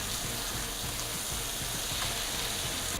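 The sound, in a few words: steak sizzling in a pan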